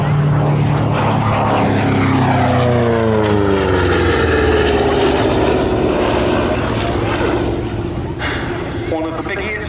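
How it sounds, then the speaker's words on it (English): A Republic P-47D Thunderbolt, a large single-engined wartime fighter, dives past at an air show, its loud propeller engine roar sweeping down in pitch as it passes close, with a commentator talking over it. "But now diving in from the left, the Republic P-47D Thunderbolt."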